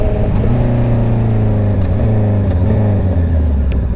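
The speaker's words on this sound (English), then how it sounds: "The pops whenever you decelerate is freaking awesome" A Honda CBR650R motorcycle engine drones loud and close, its pitch easing as it decelerates, with a few faint crackles near the end that may be exhaust pops. No voices are heard.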